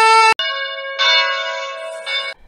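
A church bell rings loud and close in a series of sustained, resonant strikes with rich overtones, alone with no talk over it.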